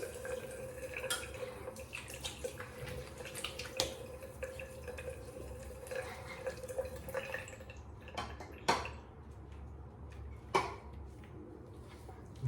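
Water dripping and trickling while rinsing during a straight-razor shave at a sink, a soft continuous patter with a few louder isolated drops near the end, no talking.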